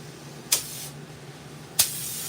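Ready-to-spray black paint from a spray can onto a pre-flaked skateboard, two short sharp hissing bursts about a second apart, close and loud over a quiet background.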